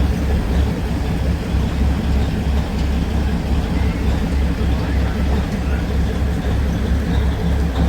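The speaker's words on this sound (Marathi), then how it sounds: "अशा प्रकारे ट्रेन आपली गेलेली आहे" The Matheran hill train pulls away from the station with a continuous low, rumbling mechanical drone that holds steady throughout, while voices murmur nearby.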